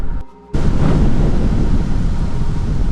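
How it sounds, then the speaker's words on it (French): Strong wind on a high snowy mountain pass in Austria surges in after a brief lull and then roars loudly and steadily close to the microphone. "Le vent se lève d'un coup là."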